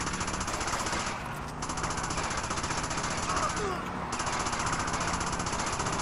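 Rapid shotgun and gunfire bursts in the game GTA Liberty City Stories, a loud, dense and continuous stream of shots under faint talk.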